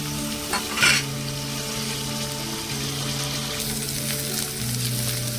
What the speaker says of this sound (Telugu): ఇప్పుడు కట్ చేసి పక్కన పెట్టుకున్న దొండకాయ ముక్కలు వేసుకున్నాం.